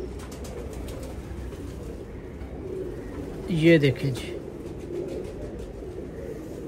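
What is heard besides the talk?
pigeons cooing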